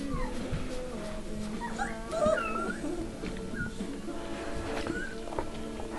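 A four-week-old Standard Poodle puppy whimpers in thin, high whines, several short cries in a row, close by over a soft background hum.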